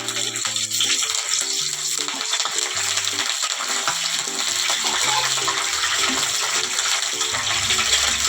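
Curry leaves sizzling in hot oil, a loud continuous crackle and spatter close to the pan with faint stirring and utensil knocks, steady throughout.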